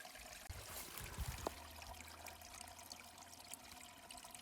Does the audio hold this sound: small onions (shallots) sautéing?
no